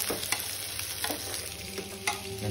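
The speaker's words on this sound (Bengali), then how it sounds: "তার জন্য পেঁয়াজটাকে হালকা করে ভেজে নিচ্ছি" Onions fry lightly in a pan with a steady close sizzle while a utensil stirs and scrapes through them every so often, no voices.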